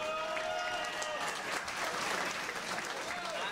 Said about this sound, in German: empfangen Sie wieder einen netten Applaus